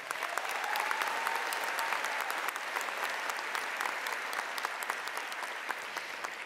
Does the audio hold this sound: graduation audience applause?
yes